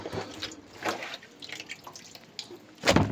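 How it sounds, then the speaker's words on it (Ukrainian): A silver carp being rinsed under running tap water gives faint, uneven splashes and trickles close by, with short bursts of water and handling and a louder splash at the end. "І під проточною водою гарненько її промиваємо"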